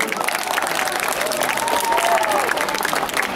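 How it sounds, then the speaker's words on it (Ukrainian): An audience at a charity concert applauds a children's choreography ensemble with dense, continuous clapping that fills the room evenly from start to finish. "Ваші оплески."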